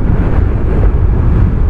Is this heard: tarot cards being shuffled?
no